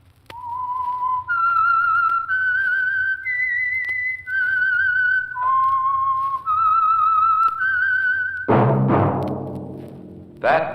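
A person whistles the theme signal of The Whistler radio program, a clear, close tune of sustained notes stepping up and down in pitch, followed by a brief burst of noise.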